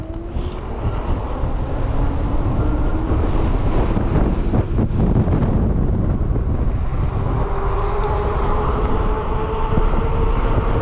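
Strong headwind blowing off an open field buffets the microphone while riding a full-suspension fat-tire e-bike, a loud continuous rumble and roar under the steady hum of the motor and tires, with no talking.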